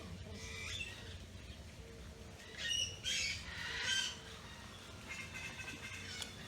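A caged bird at a nature sanctuary gives a few harsh squawks in a cluster near the middle, fairly close, against a quiet murmuring background.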